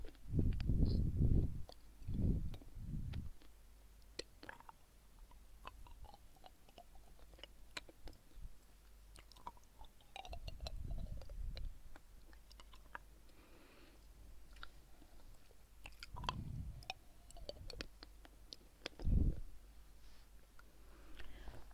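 A snack is chewed close to the microphone, with crunchy bites and moist chewing coming in scattered bursts separated by quieter stretches and soft clicks.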